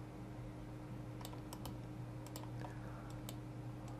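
Computer keyboard keystrokes click in a quick irregular cluster, a handful of crisp close taps over a steady low electrical hum, with no voices.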